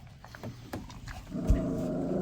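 A two-week-old puppy at an animal shelter gives a short whining, growly vocalization, close and moderately loud over a steady background rumble.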